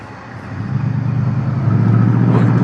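A video game vehicle rolls in through a main gate, a steady engine rumble and drone that builds gradually louder over a few seconds, close and continuous with no voices.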